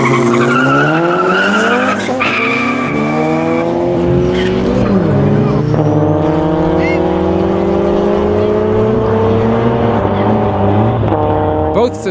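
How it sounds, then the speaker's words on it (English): A Golf 6 and a Honda Civic racing in an underground street race, with engines revving loudly and climbing through repeated gear changes, close and sustained, plus tire noise. "Luke vs Dolph, Golf 6 vs Honda Civic up next."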